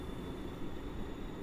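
An EN57-type electric commuter train pulls away from a platform at a Warsaw station, giving a steady low rolling rumble with a faint high whine, heard at a moderate distance.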